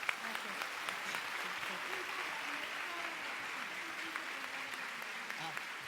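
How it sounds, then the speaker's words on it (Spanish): Sustained audience applause for a doctor at a science faculty lecture, steady even clapping from a crowd throughout, fairly soft and distant. "me gustaría que le dieran un fuerte aplauso a la doctora"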